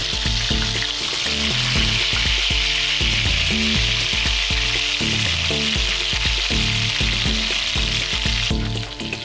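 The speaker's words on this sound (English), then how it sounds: "Here I'm simply basting the steaks just to get that little extra bit of flavor in there." Steaks sear in a hot pan while being basted, giving a loud, dense, unbroken sizzle with a fast crackling texture throughout, close to the listener and with no talk.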